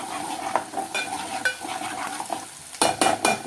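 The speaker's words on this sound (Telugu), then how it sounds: "ఇప్పుడు ఇది కలిపేసేసుకుందాము." Mutton keema curry masala being stirred in a pan, with a spoon scraping and clinking in an irregular rhythm over a steady sizzle, and a burst of faster scraping near the end.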